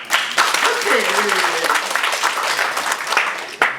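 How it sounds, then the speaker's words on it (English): An audience claps steadily in response to a call for self-applause at a talk about praising others, the clapping dense and sustained for several seconds with a voice briefly heard underneath. "Really give yourself a clap"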